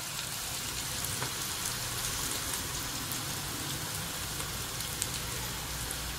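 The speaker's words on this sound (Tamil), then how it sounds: "இப்போ நாங்கள் வெங்காயம் உள்ளி எல்லாம் நல்லா ஆவிஞ்சு வதங்கிட்டுது" Onions and garlic sauté in a pan for a fenugreek (vendhaya) curry, giving a steady, dense sizzling hiss that holds evenly throughout with no talking.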